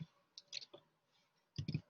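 Computer keyboard typing at close range: short bursts of a few crisp key clicks with quiet gaps between them, and no talk over them.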